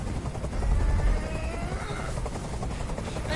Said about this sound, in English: can't stand that noise anymore. Tell that helicopter to get out of here.